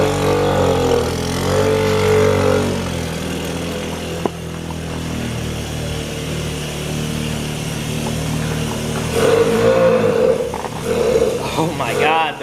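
A small Suzuki LT50 Trailbuddy ATV engine runs with a steady buzzing drone that rises and revs briefly near the start and again toward the end, with voices talking over it.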